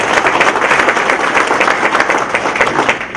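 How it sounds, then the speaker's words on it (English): A breakfast audience at an employee recognition event bursts into steady, dense applause, many hands clapping together loudly and continuously throughout with no break. "if we could just give a round of applause for him."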